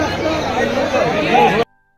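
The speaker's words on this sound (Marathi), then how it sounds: "फुल गर्दी आहे." Dense crowd chatter and overlapping voices packed into the narrow lanes of Kashi, a steady close hubbub that cuts off abruptly near the end.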